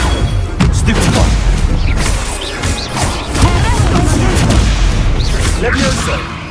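Spell-casting effects from the Hogwarts Legacy video game, with booms, thuds and crashing impacts in a dense continuous mix, players' voices chattering over the battle.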